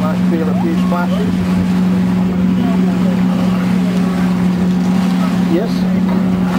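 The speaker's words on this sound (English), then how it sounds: "Go through this wake now, so you might feel a few splashes." A motorboat on the Colorado River drones with a steady, loud engine hum while pushing through a wake, water rushing and splashing around it, and a person talks over the noise.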